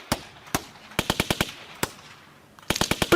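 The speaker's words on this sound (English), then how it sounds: "This is the hardest beat anybody's ever heard. It's made out of gunshots." Sharp gunshots crack out in rhythmic bursts as a music beat: two single shots, a rapid cluster of five, a lone shot, then a dense volley at the end, loud and close.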